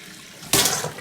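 A tap is opened after new valves are fitted, and water bursts out with a sudden loud sputtering gush as trapped air spits through the system, following a brief quiet hiss.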